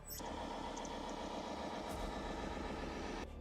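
A vehicle engine runs steadily during an automated self-test, giving a continuous, even mid-pitched hum with no breaks for a few seconds, then cutting off abruptly.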